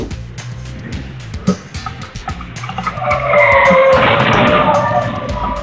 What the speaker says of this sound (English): Luckily, no one was injured in this collision.